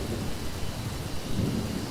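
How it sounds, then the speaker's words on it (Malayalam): Heavy thunderstorm with steady pouring rain and deep rolling thunder, a dense continuous roar that swells louder toward the end, with no voices present. "എന്താ മഴ! ഭൂമിയെ മുഴുവൻ പിടിച്ചു കുലുക്കുന്ന രീതിയിലുള്ള ഇടി."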